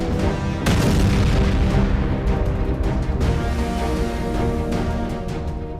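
A rapid series of powerful explosions over Aleppo, Syria, at night: loud, rumbling booms rolling one into the next without pause, dense and sustained across the whole stretch with no voices.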